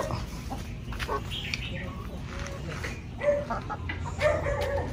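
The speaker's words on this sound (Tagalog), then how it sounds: "So, yan po yung ating mga bagong manok, Decal Brown, Rhode Island Red at saka Black." Chickens clucking and calling in a busy farmyard, with a few sharper squawks standing out over steady background noise; the flock includes Rhode Island Reds and other brown and black hens.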